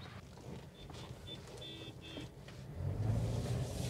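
A 2006 Toyota Corolla Altis 1.8 sedan drives along, heard from inside as a steady low engine and road rumble that swells slightly toward the end, with no talking.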